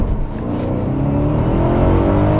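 A Mercedes-Benz W210 E60 AMG V8 accelerating hard in first gear, a loud close engine roar climbing steadily in pitch as the revs build toward the limiter, with no talk.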